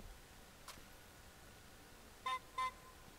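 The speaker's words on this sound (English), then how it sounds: "Had to get the honk honk in." Car horn in the VR shooting game Hotdogs Horseshoes and Handgrenades, two short honks in quick succession near the end after a faint earlier blip, fairly quiet over a low hum.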